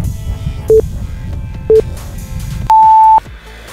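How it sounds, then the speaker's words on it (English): Three electronic timer beeps: two short, evenly spaced tones followed by a longer, higher sustained beep, loud and clear over quiet room noise with no talking. "There's my timer."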